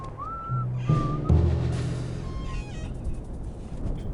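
A bird whistles in the video game Return to Castle Wolfenstein, giving a few short, clear whistled notes, fairly soft, over a steady low ambient drone and hum.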